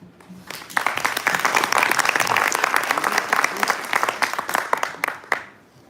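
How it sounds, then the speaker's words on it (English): A conference audience at Ledger Op3n 2022 breaks into a round of applause, a dense burst of clapping that swells quickly, holds for several seconds with some voices underneath, then tapers off. "give him a round of applause"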